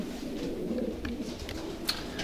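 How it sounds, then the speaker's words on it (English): Pigeons coo in a racing pigeon loft, soft low murmuring calls running steadily throughout, with a few faint higher chirps and rustles near the end. "This checker cock is a pigeon called Extreme Heat."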